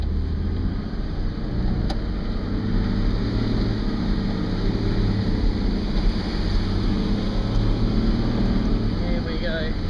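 A vehicle drives through a deep puddle in a bog on the old Kolyma Highway, the Road of Bones in Siberia, with a steady loud rumble of engine and churning water throughout.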